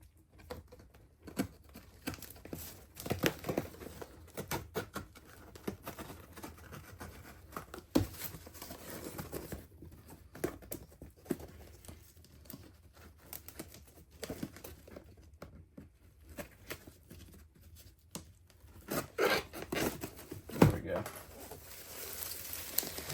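Old tar paper wrapping on a WWII flamethrower service kit is torn and crumpled by hand, making irregular close crackling and ripping bursts over about twenty seconds, with quiet talk in places.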